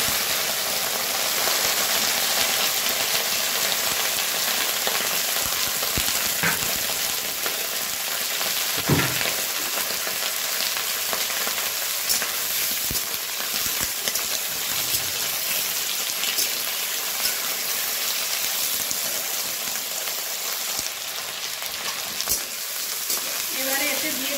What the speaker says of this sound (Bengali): এই কাঁচা সবজিগুলো দিয়ে দিচ্ছি ভেজে নেব।